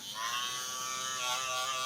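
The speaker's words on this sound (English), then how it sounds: "I'm going to create my guideline, which is 0, and follow with the trimmer and shaver here first." Hair trimmer buzzing while cutting an Afro haircut, a faint steady electric whine holding for about two seconds, with no voices.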